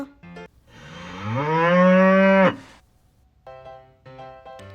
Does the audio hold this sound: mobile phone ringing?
no